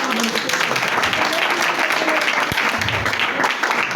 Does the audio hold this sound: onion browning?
no